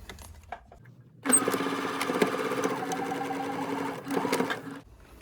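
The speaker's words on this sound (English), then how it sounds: "I'm just going to sew from the chalk mark here right to about where my slider is." A sewing machine stitches an invisible zipper into fabric, starting after a few quiet handling sounds, with a close steady mechanical whirr of rapid stitches for about three seconds, then a short final burst before it stops.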